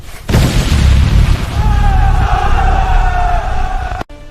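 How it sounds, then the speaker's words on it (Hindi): Loud, deep cannon blasts from a dramatized 1526 battle roar and rumble continuously for several seconds, then stop abruptly. "हमारी तोपें भयंकर प्रहार करेंगी। तोपें दागो अब।"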